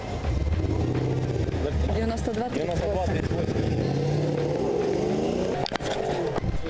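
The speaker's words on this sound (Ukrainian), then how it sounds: "Заглушите, пожалуйста, мотор." A car engine idles during a roadside police stop as a steady, low rumble. Voices talk over it throughout.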